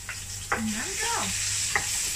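Prawns stir-frying with garlic and pepper in a hot pan, a steady soft sizzle under a few brief scraping stirs, with no one talking.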